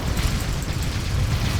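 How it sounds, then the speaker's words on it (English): Blinding grenade bursting in the Dawn of War 3 strategy game: a dense, rumbling explosive roar that holds steady and loud for the whole moment, with a heavy low-end boom under a hissing wash. "Scout Marines employing blind grenade."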